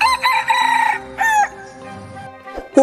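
A red jungle fowl rooster (labuyo), the wild chicken of Philippine forests, crows loudly and close by, two ringing calls in a row followed by a short cluck.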